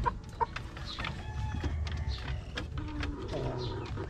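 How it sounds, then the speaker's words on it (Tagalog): Rhode Island chickens clucking in a pen, a few soft, close clucks and short calls scattered over quiet farmyard background noise. "Madali lang alagaan itong mga Rhode Island kumpara sa mga ibang manok."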